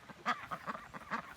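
Farmyard ducks kept near a chicken tractor quack repeatedly. Several close, nasal calls come in an uneven series over about a second and a half, with no talk over them.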